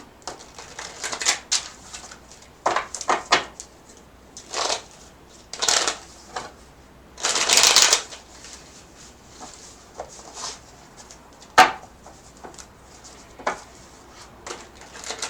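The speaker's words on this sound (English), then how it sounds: "I'm try to shuffle the cards a little more." Tarot cards being shuffled in repeated brisk riffles and slides, irregular bursts of papery flutter separated by short pauses, close up and fairly loud.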